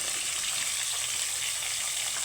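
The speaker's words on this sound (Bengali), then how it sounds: "এখানে আমি নারকেলটা টমেটোর সাথে খুব সুন্দর করে ভেজে নেব" Grated coconut fries with tomato in a pan for a steady, close sizzling hiss that stays even throughout the short stretch.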